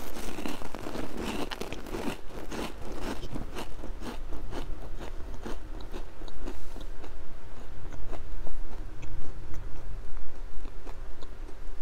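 Crackers are crunched up close in a quiet ASMR setting, with repeated crisp bites and crinkly chewing that is busiest early on and then comes in softer, irregular crunches.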